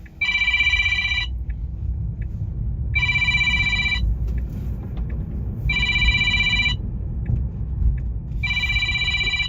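A telephone rings in repeated loud, bright bursts, four rings evenly spaced about three seconds apart, over a steady low rumble of city background noise in Manhattan.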